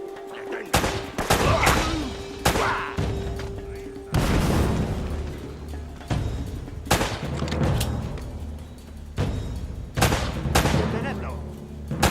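Gunfire in the video game Uncharted: Drake's Fortune, a series of loud sharp shots and bursts repeating every second or two over twelve seconds, with shouting voices in Spanish between them.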